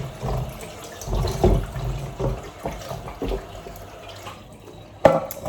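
Cutting boards get washed under a running kitchen tap, with a low, uneven splashing and rushing of water, irregular knocks as the boards are handled, and a sharp clatter near the end.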